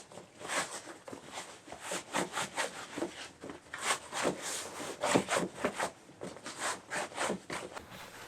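Rough, rhythmic rubbing and shuffling as an animal hide is rolled and tumbled in a container of cornmeal to sand the fur and absorb oils, with repeated granular swishes at close range and no talk.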